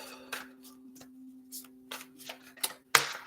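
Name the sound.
shuffling tarot cards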